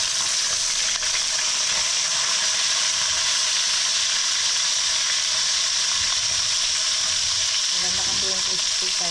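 Food fries crisply in a pan of hot oil, a steady bright sizzle throughout, close and even, with faint clatter near the end.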